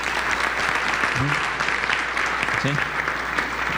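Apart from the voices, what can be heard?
audience applause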